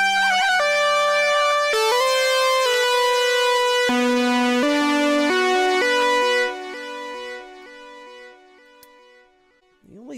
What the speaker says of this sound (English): outstanding Mini Moog emulator, and it sounds like this.